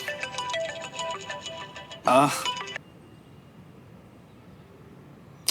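A phone ringtone plays in bursts over a soft room bed in a Hindi TV drama scene, its melodic tones stopping near mid-clip and followed by quiet background noise.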